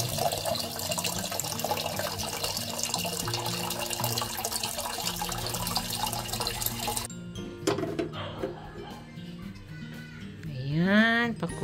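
Tap water runs steadily into a cooking pot in a home kitchen, filling it for boiling pasta; a continuous splashing rush that cuts off near the end, followed by a few clinks and a short vocal sound.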